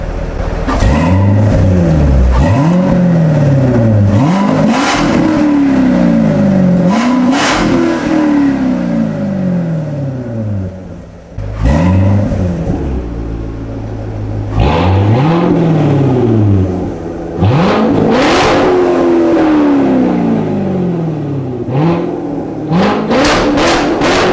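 A Chevrolet Corvette C7 fitted with an Armytrix exhaust revs repeatedly, each blip rising and falling in quick succession, loud and close, with short pauses between bursts.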